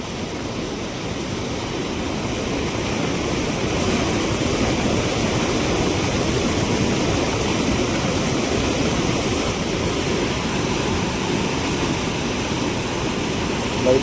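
Flooded Girna river rushing hard during rain, a dense, steady roar of water that stays loud and unbroken throughout, with no voices.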